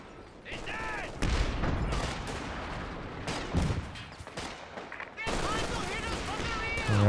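Gunfire from Company of Heroes 2 during a 2v2 match, with sniper shots and weapon fire cracking in repeated bursts, loud and dense, under a commentator talking.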